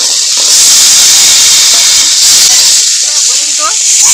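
Potato, eggplant and Malabar spinach stems dropped together into hot oil for a Bengali fish curry, a loud, continuous close hiss of sizzling that fills the whole moment.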